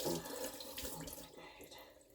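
Tap water runs steadily into a kitchen sink while ingredients for moi moi are washed, a close, continuous splashing rush that thins out toward the end.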